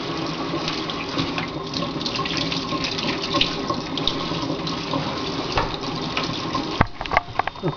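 Water runs steadily into a sink while dirt is washed off freshly harvested horseradish roots, a continuous close splashing rush with occasional knocks and clatters of the roots being handled.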